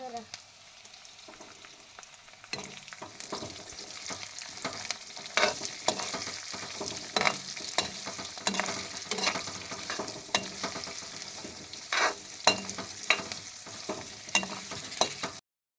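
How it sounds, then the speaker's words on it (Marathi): Onions frying in a pan for poha are stirred, a steady close sizzle broken by repeated scraping and clattering strokes of the spoon, with no speech. "आता आपण फिरवू जरा."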